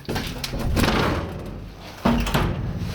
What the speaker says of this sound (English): So here's the door to outside.